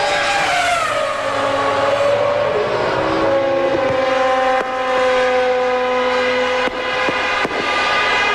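A McLaren Formula 1 car screaming past on the track at the 2001 European Grand Prix, very loud, its high engine note falling in pitch as it goes by, with other cars droning behind.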